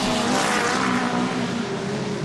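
Hot rod race cars roar around the Wimbledon track at a 1977 meeting, a loud continuous blend of engines with a dense, roaring wash and no commentary over it.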